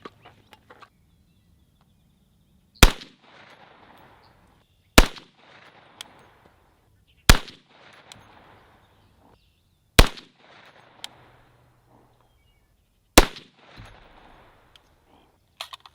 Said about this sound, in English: We're going to try out some of their 145 grain full metal jacket first